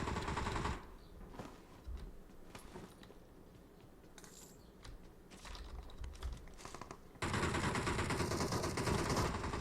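Automatic rifle fire in PUBG Mobile, rattling bursts mixed with clicky keyboard-like tapping, quieter in the middle and swelling into a loud, dense stretch near the end.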